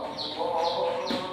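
Free-range village chickens on a smallholding cluck in a short burst of repeated calls, moderately close, with a busy low murmur of other sounds underneath.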